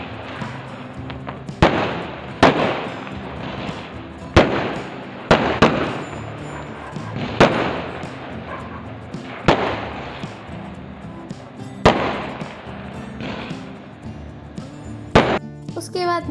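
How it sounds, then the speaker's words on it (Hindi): Fireworks and firecrackers go off during Diwali in a village, a string of sharp loud bangs spaced a second or two apart over a crackling, rumbling background. "फिर हमने देखा अच्छा सा फायरवर्क,"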